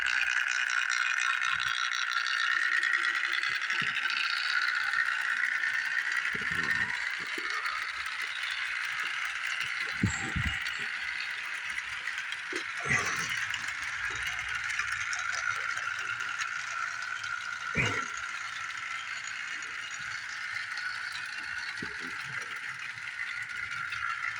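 A steady, thin mechanical whir runs throughout, with occasional light clicks and rattles, close and fairly quiet, like a small motor turning slowly.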